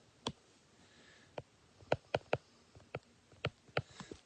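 Sharp, irregular tapping clicks of a pen or stylus on a surface while writing out a trigonometry identity, about a dozen distinct ticks spread unevenly, close and fairly quiet with no talking.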